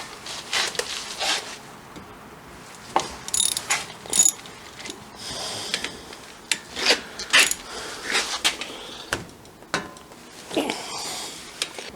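Ratchet loosening the brake caliper bolts on a 2018 Nissan Rogue, giving repeated bursts of close, sharp clicking pawl strokes with brief pauses and metallic knocks between.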